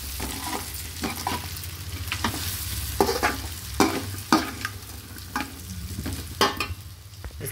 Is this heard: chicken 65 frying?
yes